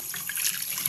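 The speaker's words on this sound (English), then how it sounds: "Let's go give it a quick rinse." Water running from a tap during a quick rinse, a brief close hiss of flowing water with no talking.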